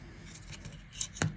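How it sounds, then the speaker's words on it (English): Jewelry wire pulled from a reel and cut for a beaded pendant, with faint handling noise and then a single crisp metallic snip from the cutters near the end. "So just give me a second to cut the wire"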